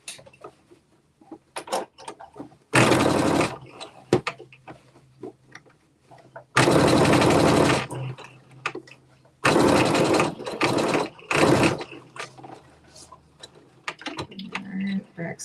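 A sewing machine running a back stitch: three loud, close bursts of rapid mechanical whirring, each lasting one to two seconds, separated by quiet gaps with faint handling clicks and taps.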